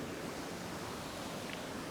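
A steady rush of falling water from a milky coloured waterfall at Cradle Mountain, flowing over rocks. The broad, even roar holds constant with no other sounds.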